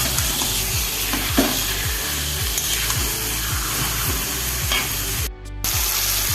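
Marinated mutton with whole garlic is sautéed hard in a pan: a loud, continuous sizzle with rhythmic spatula scrapes repeating every half second, close up, broken only by a brief dip near the end.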